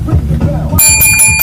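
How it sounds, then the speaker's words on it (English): A bright bicycle bell rings out a few quick times, loud and close, following a moment of low rumbling. "ring the bell"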